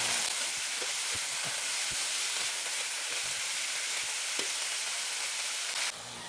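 String beans are stir-fried and tossed in a pan with onion, making a loud, continuous sizzling hiss with scattered scraping knocks from the mixing; the sizzle drops off abruptly near the end.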